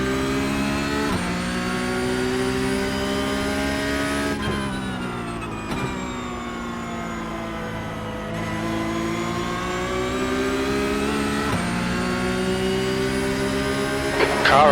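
Porsche Cup race car in iRacing launching from a standing start, its loud engine note rising through the gears with sharp drops at each shift, a steady close roar from start to finish.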